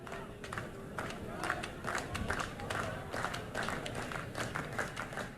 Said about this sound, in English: Fans clapping.